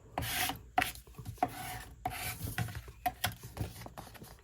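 A scraper tool rubs firmly over paper in a craft project, making a run of close, dry rasping strokes with short pauses between them.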